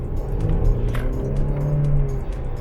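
A Mercedes C 300 pulls away hard from a green light with a rising engine note from close by, alone with no talk.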